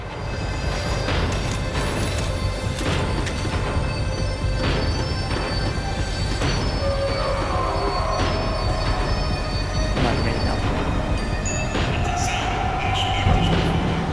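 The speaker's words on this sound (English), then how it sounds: "The tram was slowing down, and I'd only just gotten on board." Tram in the Max Payne 3 video game slowing to a stop: a steady, loud rumble of wheels and carriage with rattling and brief metallic squeals and clanks, running continuously throughout.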